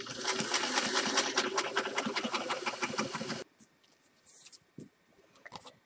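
Sewing machine straight stitching fabric, a rapid, even mechanical chatter running loud and steady for about three seconds, then stopping abruptly and leaving a few faint handling noises.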